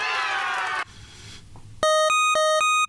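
A hissy synth tone cuts off, then a bright buzzy pulse-wave note sounds in two short repeated stabs, close and electronic.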